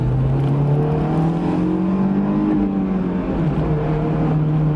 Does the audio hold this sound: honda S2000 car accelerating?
yes